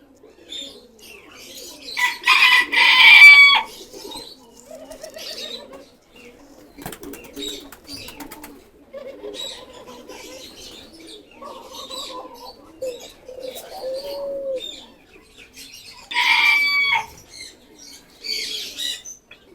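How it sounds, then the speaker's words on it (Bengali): Young and female Giribaz pigeons, released along with peacocks, coo softly and repeatedly while two brief bursts of wing flapping break out, one near the start and one near the end, against a quiet outdoor background. "আজকে সব বাচ্চা এবং মাদি কবুতরগুলো ছাড়া হয়েছে।"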